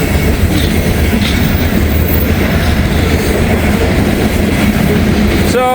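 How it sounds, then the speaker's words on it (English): Close and loud, a train rolls past trackside on a Sunday in a steady rumbling roar of railcars, broken by faint wheel clatter and a brief squeal near the end. "They're running the trains."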